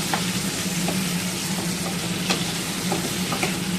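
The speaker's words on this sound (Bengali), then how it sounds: "এখন আমি এর মধ্যে পেঁয়াজ কুচি দিয়ে দিচ্ছি" Chopped onion frying in a pan for a light rohu fish curry gives a steady, close sizzle, with a few clicks of stirring scattered through it.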